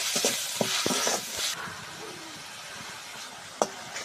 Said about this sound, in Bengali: এখন হলুদের গুঁড়ো, মরিচের গুঁড়ો, স্বাদ মতো লবণ সব কিছু দিয়ে কষাই নিই।